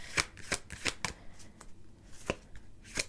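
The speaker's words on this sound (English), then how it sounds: "Spirit is telling me I need to slow down with the shuffling" Tarot cards are shuffled in a rapid run of crisp riffling bursts, then slower, sparser snaps, close up and alone with no talk.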